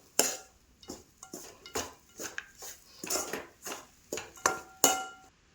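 A jackfruit laddu mixture with jaggery is stirred and fried in a pan, about a dozen scraping, clinking strokes of a metal spoon against the pan in an uneven rhythm, close and fairly quiet.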